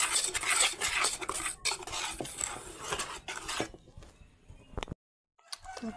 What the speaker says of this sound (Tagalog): Paghaluin natin ang harina at saka baking soda.